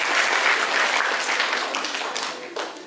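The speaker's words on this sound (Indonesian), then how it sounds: "Sekali lagi kita berikan tepuk tangan yang meriah untuk Bapak Guru" Students give lively applause for the teachers at an Indonesian school introduction for new pupils, a thick, continuous burst of clapping that softens and drops away at the end.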